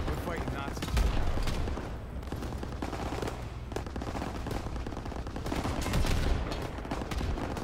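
Sustained rifle and machine-gun fire rattles in the World War II video game Call of Duty WW2 during Operation Cobra. Heavy bursts overlap in a loud, dense barrage, with shouted voices mixed in beneath the gunfire.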